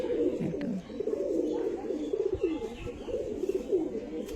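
An Andra Phulshira pigeon, restless and fluttering in the hand, coos in a continuous low warbling murmur, close and moderately loud, with rhythmic pulses running through the whole stretch.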